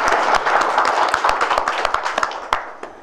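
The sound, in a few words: audience clapping in thanks to the MLA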